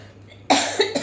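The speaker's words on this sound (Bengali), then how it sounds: "বন্ধুরা প্রচুর কাশি হয়েছে।" A person with a heavy cough lets out one sharp, close cough followed by two smaller bursts, over quiet background hum.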